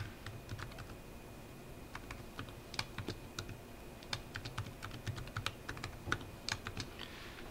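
Typing on a computer keyboard to enter a password into a login form, quick irregular clicks of keys tapped close by at a moderate level, with no talking.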